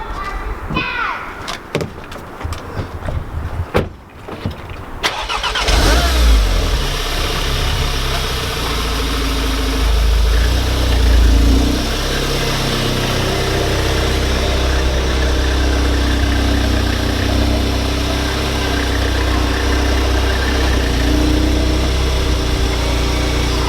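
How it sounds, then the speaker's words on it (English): An Audi TT mk3 coupe starts after a few door and handling clicks, then its engine idles steadily and rumbles nearby as the car is pulled forward, with a person speaking over it. "We're going to pull the car forward"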